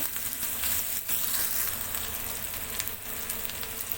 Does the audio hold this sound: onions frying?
yes